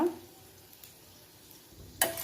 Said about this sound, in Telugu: కొంచెం జీలకర్ర, ఎండుమిర్చి ఇవన్నీ బాగా వేగే వరకు వేయించాలి.